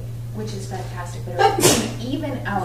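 One short sneeze bursts out midway through, close by, with someone talking before and after it over a low steady hum.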